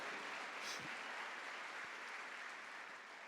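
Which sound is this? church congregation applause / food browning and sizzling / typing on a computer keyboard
church congregation applause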